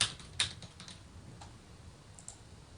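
A computer keyboard clicks as a search is typed into Google Trends, a quick burst of sharp keystrokes followed by sparser, fainter taps in a quiet room.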